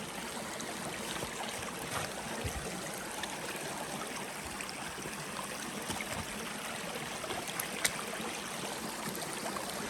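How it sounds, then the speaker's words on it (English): A small waterfall on a stream along the Copperas Falls Trail in Appalachia rushes in a steady, broad wash of splashing water, close and constant with no voices. "we're getting way too excited about the small waterfall"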